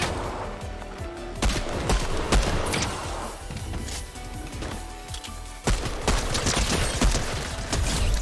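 Gunfire in the Fortnite video game, with rapid bursts of shots and sharp cracks that come in clusters across the stretch, loud and close over a busy background of game sound.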